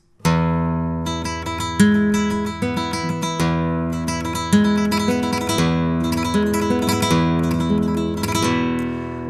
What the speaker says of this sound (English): Now, the pattern for tremolo for the flamenco guitar is different.